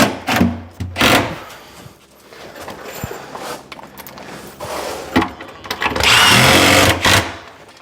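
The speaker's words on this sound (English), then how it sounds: "now we're good to just continue screwing these down" A power drill drives screws to fasten base cabinets during a cabinet installation. It gives short, loud whirring bursts at intervals, with a longer, louder run near the end, mixed with knocks and handling noise.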